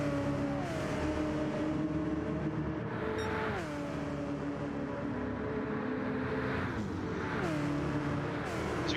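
V8 Supercars race cars roaring around the St Croix circuit in a racing video game, a steady loud engine drone with repeated gear shifts dropping pitch, several cars running close together without a break.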